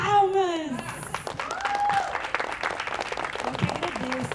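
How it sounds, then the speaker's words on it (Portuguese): Audience at a talks festival applauding a speaker as she is introduced, a burst of clapping and crowd noise mixed with cheering voices and nearby talk, fairly loud throughout. "Palmas!"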